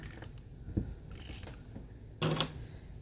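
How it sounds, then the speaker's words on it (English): Ratcheting, clicking bursts from an adhesive tape runner being rolled out for matting a card, close and fairly quiet, in several short strokes without talk. "I am going to, in the meantime, come in with my tape runner"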